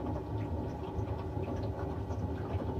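A broken home boiler bubbling, a steady low churning rumble with soft gurgles, fairly faint and continuous throughout with no talking.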